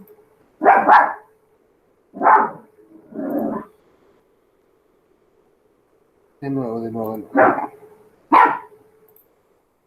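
Several dogs bark in short separate bursts across the clip, fairly close and loud, with a person speaking briefly between them.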